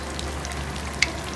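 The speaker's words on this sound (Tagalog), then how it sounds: "luluto na natin yung tokwa. Ayan siya, piniprito natin." Tofu frying in a pan makes a steady close sizzle with one brief sharp pop partway through, and no one speaks.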